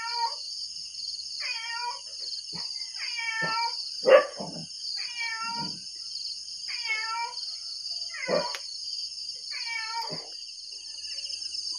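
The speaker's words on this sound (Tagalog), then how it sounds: "Yung ating pusa po ay naglalandi na." A cat in heat meows repeatedly outdoors on a cold morning near a vegetable garden, giving about eight drawn-out wavering calls at steady intervals, a couple of them louder, over a constant high-pitched insect drone.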